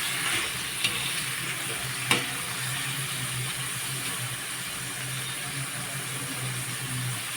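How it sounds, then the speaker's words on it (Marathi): Paneer pieces fry in oil until browned, giving a steady, even sizzle close up with a couple of brief clicks from a utensil early on. "पनीरचे तुकडे खरपूस आपण भाजून घ्यायचे"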